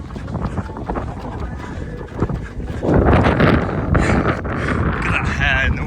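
Wind buffets a microphone outdoors during a backpacked half marathon run, rough and gusty with louder bursts in the second half, mixed with speech and movement.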